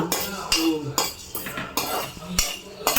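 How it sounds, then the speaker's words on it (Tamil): Pepper and cumin are dry roasted in a pan with a metal spoon, producing sharp rhythmic clinks and scrapes. There are about seven strikes in quick succession, close and clear. "மிளகு ஜீரகம் இப்போ நம்ம வறுத்துட்ருக்கோம்"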